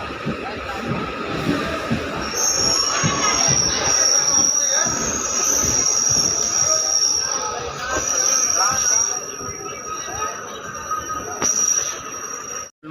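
A DEMU passenger train pulling into Old Malda Junction station: low rumbling and rolling noise with a high, thin squeal from the wheels, steady for most of the stretch, then fading near the end. Platform chatter runs faintly underneath.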